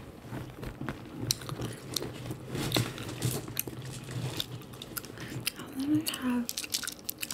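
Spearmint gum being chewed close up with soft wet clicks and squishes in an irregular rhythm, under quiet soft-spoken talk.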